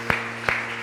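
A church congregation claps in worship, with sharp, evenly spaced claps about every four-tenths of a second over a steady background hum.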